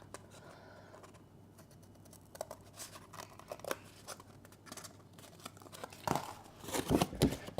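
Scissors snip and crunch through a piece of card in short irregular cuts, with crinkling handling noises, close and fairly quiet before growing louder near the end.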